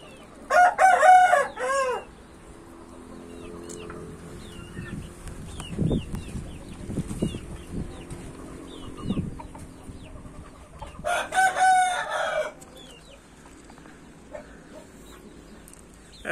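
A rooster, a restless bird squaring up to a smaller speckled chick, crows twice, loud and close, with a long gap of quieter farmyard noise between the calls.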